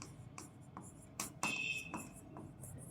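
Math terms being written on a board: a series of short, scratchy strokes in uneven rhythm, some sharper and louder than others, heard close with a faint background hum.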